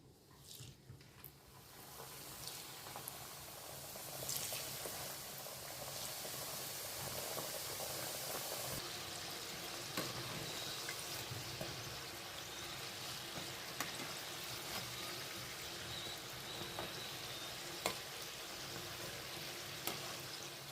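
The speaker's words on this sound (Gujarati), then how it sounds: "ચાલો હવે બાકીના સમોસા તળી લઈએ." Samosas deep-frying in hot oil, a steady, dense sizzle and hiss that swells after the first couple of seconds and then holds evenly, close but fairly soft, with occasional faint pops and no talk.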